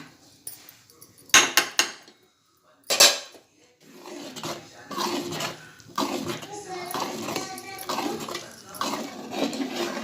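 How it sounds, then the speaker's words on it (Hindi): Rice kheer with milk powder being stirred in a pot, with sharp metallic clinks at first and then continuous scraping of the spoon against the pot, while a voice talks over it. "हमें इसे कंटिन्यू हिलाना है, नहीं तो गुठलियाँ तैयार होंगी।"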